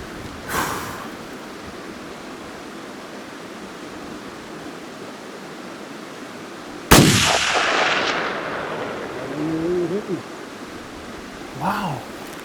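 A rifle shot rings out once during a bull moose hunt in the Yukon wilderness, loud and sharp with a rolling echo, followed by faint voices over steady wind noise.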